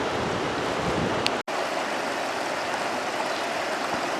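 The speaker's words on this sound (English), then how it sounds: "There's a lot of water running down there." Steady broadband rush of creek water running through storm-damaged woods, continuous and fairly loud, with a brief near-silent dropout partway through.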